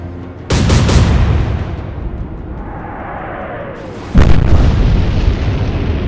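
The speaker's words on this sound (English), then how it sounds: "that's a severe explosion on our destroyer" A heavy explosion on a destroyer in the naval game Atlantic Fleet booms and rumbles away into a long fading roar, then a second loud blast hits a few seconds later, close and powerful.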